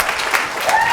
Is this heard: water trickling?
no